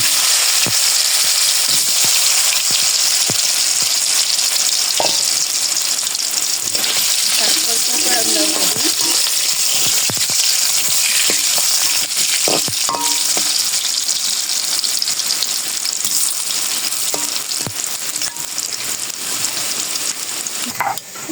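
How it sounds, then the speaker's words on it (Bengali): Potatoes frying in a pan with a loud, continuous sizzle and crackle, punctuated by occasional clinks and scraping of a spatula, close up throughout. "আলুগুলো ভেজে উঠিয়ে নিই"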